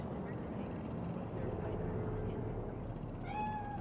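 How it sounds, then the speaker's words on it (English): A cat meows in the video game Cyberpunk 2077, a short rising and falling call near the end, heard over a steady low city ambience and engine hum. "Do you see it? That cat?"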